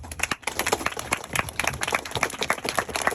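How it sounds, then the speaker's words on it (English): Close, lively applause from an audience at a university lunch-and-learn talk, with many hands clapping in a dense, uneven patter that keeps a steady level. "How about a big round of applause for all the students?"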